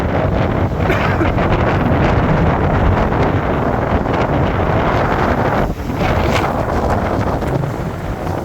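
Strong wind roars at sea near large boats moored at anchor, a loud, continuous buffeting rush with gusts and wave wash that persists throughout.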